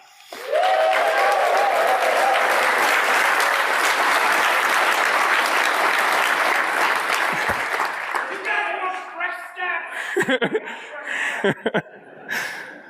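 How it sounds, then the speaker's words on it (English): A conference audience at Black Hat USA applauds an arriving speaker: loud, dense clapping sustained for about eight seconds, then fading into scattered laughter and chatter. "Everybody clap."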